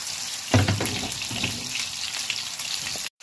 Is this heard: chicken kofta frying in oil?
yes